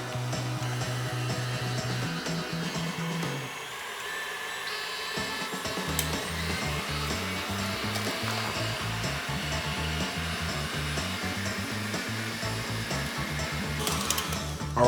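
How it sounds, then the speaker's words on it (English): Electric stand mixer beating ice-cold heavy cream, a continuous loud motor whir with a steady pulsing whine that dips briefly as the speed changes, then runs on alone. "I'm gonna put it into my mixer, and I am going to beat this."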